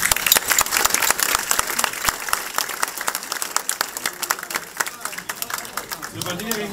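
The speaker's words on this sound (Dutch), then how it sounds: "er zijn zoveel vrijwilligers ook hier, geeft u uzelf allemaal even een applaus" Volunteers in the audience at a volunteer award ceremony clap for themselves, loud dense applause with sharp close hand claps, tapering slightly toward the end as a voice begins.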